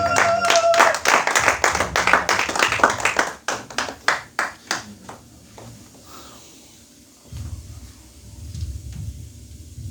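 A church congregation claps in praise during a worship service, with loud, rhythmic clapping that thins into slower scattered claps before a quieter stretch of room noise and low murmur.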